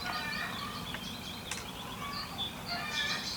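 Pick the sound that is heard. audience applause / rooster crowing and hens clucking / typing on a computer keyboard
rooster crowing and hens clucking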